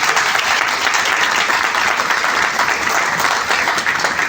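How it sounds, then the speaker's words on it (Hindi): A seated audience at a motivational talk breaks into strong, sustained applause, a dense wash of many hands clapping at steady volume throughout. "जोरदार ताली विपिन राठी जी।"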